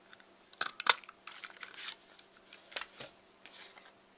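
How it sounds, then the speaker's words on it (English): Scissors snipping through paper for a handmade get-well nurse card, several short crisp cuts and crinkles, close and fairly quiet, with no talking. "I'm going to cut it in half right at the waist"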